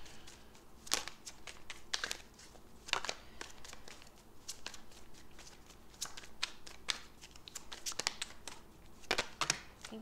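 Tarot cards being shuffled by hand: repeated riffling and sliding bursts in irregular rhythm, close and fairly quiet, with no talking.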